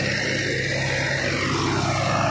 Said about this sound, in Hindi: काफ़ी ज़्यादा स्ट्रगल दोनों ट्रैक्टर जो कर रहे हैं पूरी ताकत लगा